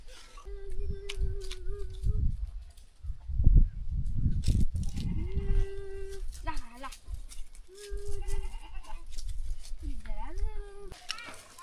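Goats bleat several times on a rural hillside farm in Gorkha, Nepal, where firewood is stacked. The calls are drawn-out and fairly close, with people talking intermittently between them.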